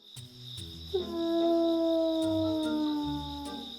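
A cartoon wolf lets out a long, wavering howl that swells and slowly glides downward, loud and close, with a few short sounds before it and no talking.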